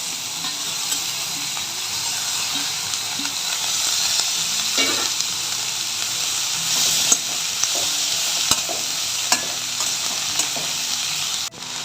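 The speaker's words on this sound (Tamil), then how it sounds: "இதில் வெங்காயம், தக்காளி, இஞ்சி, பூண்டு, பச்சை மிளகாய் எல்லாத்தையும் வதக்கிக்கலாம்." Onion, tomato, ginger, garlic and green chilli sautéing in a hot pan for a rajma gravy give a steady, close sizzle, with stirring scrapes and faint knocks running underneath the whole time.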